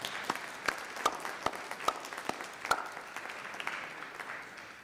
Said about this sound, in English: One round of applause for all of them.